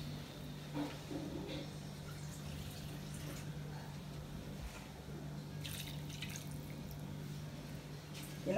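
Water is poured into a pan of Chettinad crab masala, a quiet, steady trickle and splash over faint background hiss, fairly soft and without talk.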